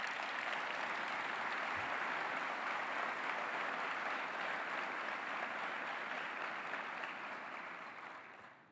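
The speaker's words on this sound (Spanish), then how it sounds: "Vaya si no se merece un aplauso este señor Toto Caputo." Steady, dense applause from a large audience of business people at a speech by Milei, given for Toto Caputo, sustained for several seconds before fading out at the end.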